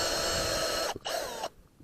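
A hand or power drill bores a tap hole into a maple tree outdoors, giving a steady, close whirring grind that cuts out briefly, resumes, then stops, leaving quiet outdoor ambience.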